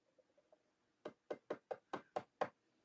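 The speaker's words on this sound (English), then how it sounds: "You better be knocking on some wood, my dear" Seven sharp knocks on wood in a quick, fairly even series, loud and close, preceded by a few faint light taps.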